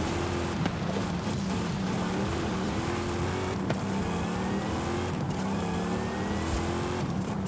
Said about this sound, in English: We should just launch this car down the freeway.